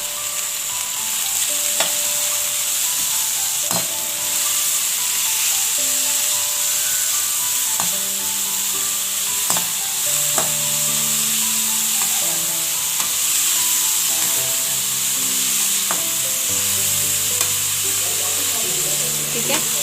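Chicken pieces frying in a pan for a reshmi handi dish, giving a steady, close sizzle throughout with occasional soft clicks and stirring scrapes, with faint background music and no talk.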